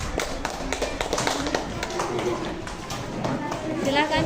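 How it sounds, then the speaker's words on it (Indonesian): Schoolchildren in a classroom clap for group 4, a dense patter of many small hands that swells and fades across a few seconds, with voices murmuring underneath. "tepuk tangan kelompok 4"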